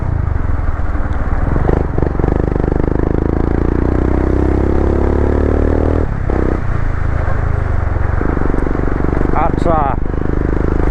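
A Royal Enfield Himalayan 411 motorcycle fitted with an Akrapovic exhaust, its engine loud and close, rising and falling through revs with a rough, throbbing note and a brief drop near the end.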